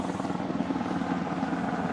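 A Black Hawk military helicopter flies over, its rotor throbbing steadily and fairly loud throughout, with no pause in the dense low beating.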